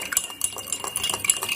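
A spoon stirs sugar into water in a glass, giving a quick run of light metallic clinks and scrapes against the glass, close and fairly quiet, with no talking.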